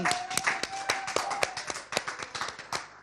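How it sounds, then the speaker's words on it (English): A few people clap in a brief, uneven round of applause after an interview, with separate sharp hand claps spaced irregularly and a faint voice cheering in the background. "Big round of applause for me."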